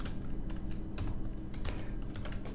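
A command being typed on a computer keyboard, a quick, uneven run of crisp close key clicks with brief pauses, quiet and alone.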